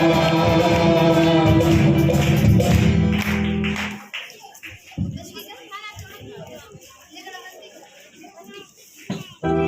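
A group claps rhythmically along to a sung Christian song, steady hand claps under loud singing for the first four seconds, then the music drops away to scattered sounds and chatter.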